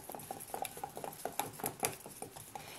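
Soft, rapid scraping and clicking of chalk paint mixture being stirred by hand, an irregular patter of taps against the container, faint and close with no talk.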